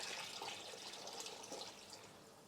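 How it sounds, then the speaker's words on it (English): Water pours steadily from a massive jug into blended Indian restaurant base gravy, a soft continuous splashing trickle that ends in a sudden loud clunk. "Now I'm going to add some water, a little bit more, plenty more water"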